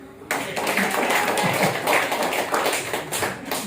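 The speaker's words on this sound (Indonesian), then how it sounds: "Boleh tepuk tangan?" An audience claps together, a dense run of hand claps that continues steadily and fairly loud throughout, with no talking over it.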